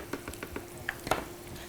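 Breadcrumb-coated food fries in a pan with a soft, steady sizzle broken by a few light clicks and taps, close and fairly quiet.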